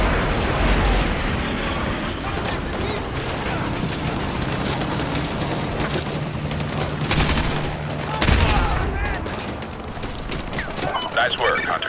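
Sustained gunfire from a Call of Duty battle aimed at a sentry gun: a dense, continuous stream of shots and impacts with sharper bursts near the middle and end, set in a loud combat soundscape.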